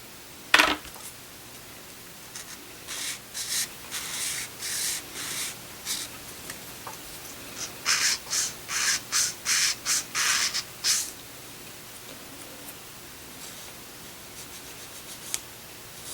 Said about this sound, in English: Just going to use the sandpaper here